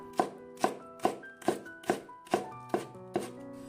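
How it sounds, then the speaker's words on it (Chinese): A kitchen knife slices a length of scallion diagonally into thin shreds on a cutting board: eight evenly spaced, crisp chops with a steady rhythm, close and clear, with no voices. "1小节的大葱用刀从中间切开，然后咱们斜刀给它切成细丝"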